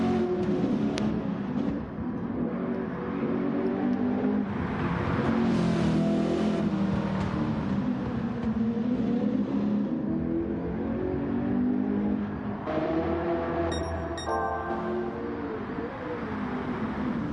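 A car drifts with tyre smoke on the Nordschleife track, its engine giving a continuous loud droning roar that rises and falls slightly in pitch for the whole stretch, with no voices.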